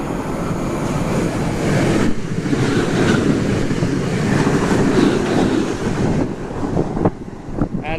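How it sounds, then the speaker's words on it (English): A passenger train to Stratford rumbles past Angel Road Station with a steady, loud roar and wind buffeting the microphone, rail clatter fading near the end as it moves away. "And that's the Stratford train."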